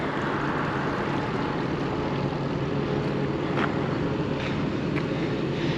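A hydraulic tailgate rises on a tractor-drawn spreader amid a steady, droning machine hum that holds constant throughout, with a few faint clicks near the end.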